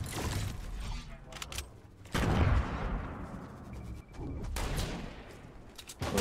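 Rapid gunfire in the battle royale video game Fortnite, loud overlapping bursts of shots and impacts with booming hits, continuous and dense throughout with game effects layered underneath.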